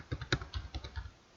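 Quick, close clatter of keys as someone types month names into an Excel spreadsheet on a computer keyboard, about a dozen crisp taps in an uneven run that trails off.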